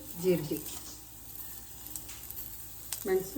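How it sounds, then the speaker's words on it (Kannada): Cumin and pepper sizzle in hot oil in short bursts at the start and the end, with quieter background noise in between. "ಜೀರಿಗೆ ಹಾಕ್ತಾಯಿದ್ದೀನಿ. ಇದು ಫ್ರೈ ಮಾಡೋದು."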